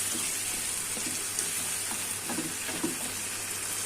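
Bottle gourd sautéing in a pan for a pangas fish curry, a dense, steady sizzle and crackle with faint stirring scrapes underneath, moderately loud and continuous.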